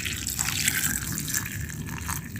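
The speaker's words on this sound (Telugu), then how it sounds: "జీడిపప్పు ఖర్జూరాలు వేసుకున్న తర్వాత వేడి నీళ్ళు పోసుకోవాలి." Hot water pours steadily into a bowl of cashews and pitted dates, a continuous close gushing splash with no talk.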